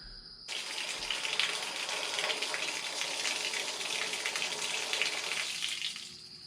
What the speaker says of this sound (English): Let a little water out.